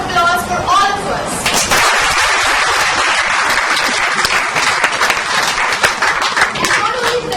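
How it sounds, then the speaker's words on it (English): A crowd at a joint Toastmasters installation ceremony for the Westbury and Dwarka clubs gives a loud, sustained round of applause, with dense, close clapping continuing for the full length. "let's have a round of applause for all of us"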